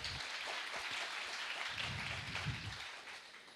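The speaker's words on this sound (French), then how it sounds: "Il y en a un, on peut l'applaudir" An audience applauds at a public conference about the internet and social networks, a steady wash of clapping from many hands that holds at an even level and then eases slightly, fairly distant.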